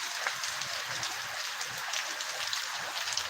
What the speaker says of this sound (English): the rain is coming up under the thing now